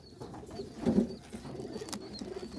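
A racing pigeon gives a brief low coo, close and moderately loud, over a muffled background hum in a loft.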